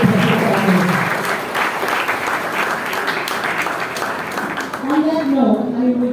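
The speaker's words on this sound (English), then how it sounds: "So, one more big round of applause, please, for that wonderful Tracy Holsinger" An audience at a solidarity evening marking the Nakba anniversary applauds steadily, a dense wash of many hands clapping that fades slightly before a person begins speaking over the tail end.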